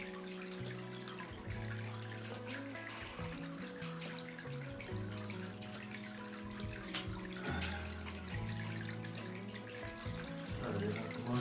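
Water runs steadily from a tap into a sink while a dying good luck plant is trimmed, a continuous close splashing flow with no talking.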